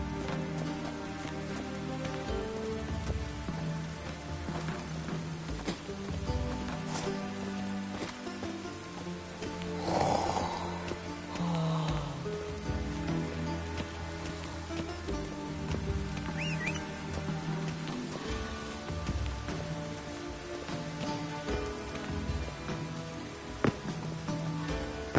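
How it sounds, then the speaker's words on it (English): Rain falling in The Witcher 3 on PS5 makes a continuous even patter on surfaces. Game music and ambience sit underneath, with a brief louder swell midway. "Must be mad running around in this rain."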